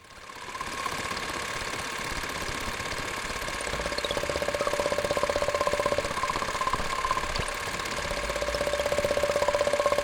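Sewing machine sounds used in an animation soundtrack, a steady mechanical ratcheting whir with a sustained tonal hum building slightly louder over time.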